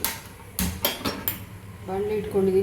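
Metal frying pan set down on a home kitchen stove, several sharp clanks and knocks in quick succession, close and fairly clear, followed by a ringing metallic tone and a voice talking.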